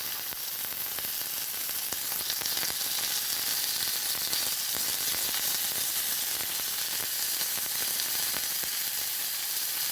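Ground mutton for momo filling fries in a pan, a steady loud sizzle with crackling spits running the whole time, no voices over it.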